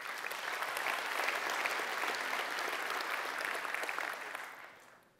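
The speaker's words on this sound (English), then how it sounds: "please, one more round of applause for our sponsors" Conference audience applauding the sponsors at a tech event opening: dense, steady clapping from a large crowd for about four seconds, then fading out.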